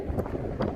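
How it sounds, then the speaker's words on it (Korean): Wind buffeting a microphone on a bridge near a modern glass-clad concert hall in Hamburg, a steady low rumble with two brief gusts swelling through a short stretch. "여러분들 바람소리 들리시죠?"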